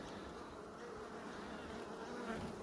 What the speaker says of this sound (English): And some bees fell down here when I was taking the top off.